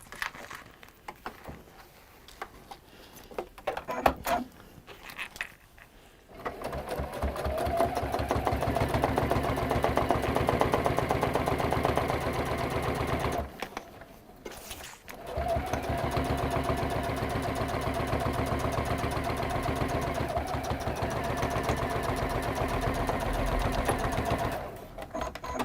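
Sewing machine stitching a zip into textile fabric, running in two long steady bursts of rapid mechanical whirring separated by short pauses with light handling noises, close and clear.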